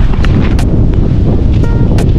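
Strong wind on a road trip to Baler buffets the microphone in a loud, continuous roar, with gusty rumbling throughout.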